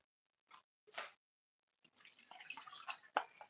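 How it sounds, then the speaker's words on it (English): Water trickles and drips into protein powder in a kitchen, faint and close, with a few isolated splashes followed by a longer uneven pour. "I'm just gonna add a little bit of water to a protein powder real quick."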